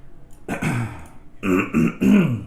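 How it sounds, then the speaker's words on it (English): Several rough throat clearings in quick succession, close and fairly loud, with short pauses between the raspy bursts. "Sorry if I clear my throat a lot today."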